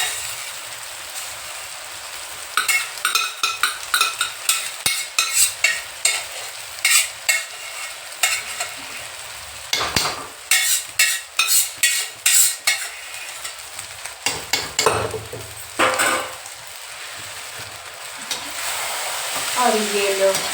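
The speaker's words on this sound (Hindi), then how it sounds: "अब हम इसको बहुत देर तक भूंजेंगे, एकदम भूंज के भूंज डालेंगे।" Food being stirred and roasted in a pan in a home kitchen after rice cooked in a pressure cooker, with rapid repeated scraping and sizzling strokes, close and fairly loud, pausing briefly then resuming with a steadier hiss.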